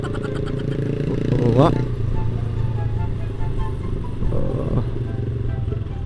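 A group of Harley motorcycles rides together on the road in Aceh, their engines rumbling steadily and close with a few revs, while a man makes short excited exclamations over the noise.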